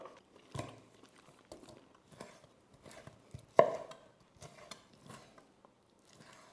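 Pan-grilled pork belly liempo chopped on a board with a knife: a series of sharp, irregular thuds and cuts, close and fairly loud against near silence, one strike standing out harder than the rest.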